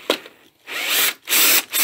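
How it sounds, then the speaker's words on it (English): Impact driver backing a screw out of a wooden birdhouse: two short bursts of loud, ratcheting hammering whir, close up, with a brief pause between them. "an impact driver"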